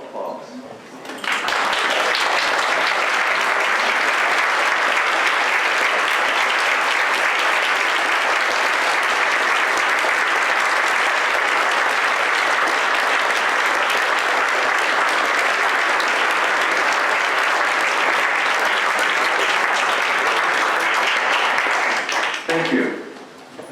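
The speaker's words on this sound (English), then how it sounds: "we'd like to give you a round of applause" A large audience at the Island Treasure Awards ceremony gives a long, loud, steady round of applause for the honorees and their families, swelling quickly and holding for over twenty seconds before stopping.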